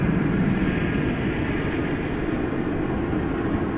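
An airplane taxiing and turning left at DFW airport gives a steady, dense engine roar with a broad hiss, continuous and even throughout, heard from a moderate distance with no talk.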